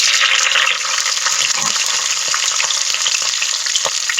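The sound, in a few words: red onions and whole spices frying in oil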